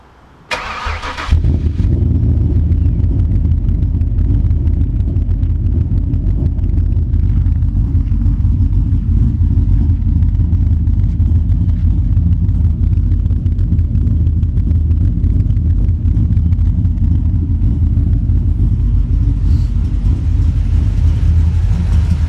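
A car engine fitted with a new airbox, exhaust with 3.5-inch tips and PCMtec tuning starts up and settles into a steady, deep warm idle, a loud low rumble held evenly for the rest of the clip.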